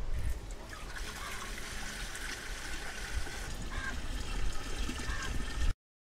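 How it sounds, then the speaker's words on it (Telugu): Five liters of water pouring into a clay pot set in a pit beside a field bund, a steady close trickle and splash that runs continuously before stopping abruptly. "ఇప్పుడు 5 లీటర్ల నీళ్లు ఇందులో పోయాలి"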